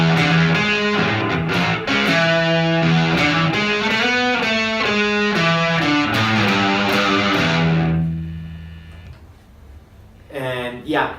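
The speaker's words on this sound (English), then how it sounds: "I'm gonna play you the overdrive again." An electric guitar played through an overdrive pedal rings out with sustained, gritty chords and a loud, steady run of notes that decays after about eight seconds, followed by a brief faint strum near the end.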